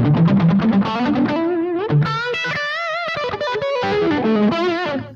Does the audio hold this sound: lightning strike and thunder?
no